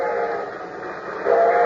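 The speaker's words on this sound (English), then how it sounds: "The train was coming closer. I could hear its bell. Heard its cry, its whistle crying." A train whistle sound effect cries steadily in an old radio drama, a sustained reedy tone that swells louder near the end, with no voices over it.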